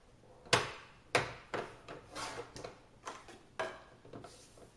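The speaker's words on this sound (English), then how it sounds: "So I'm going to trim off 3 inches." Cardstock being trimmed to size for a wine tag, heard as a series of sharp, close cutting strokes at an uneven rhythm with quiet gaps between them, no talking.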